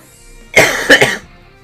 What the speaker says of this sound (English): Why won't the cough go away?